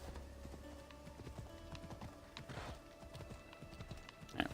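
Horse hooves clip-clopping in a steady rhythm in Assassin's Creed Odyssey, close and moderately loud over a busy game soundscape with a brief sharper burst near the end.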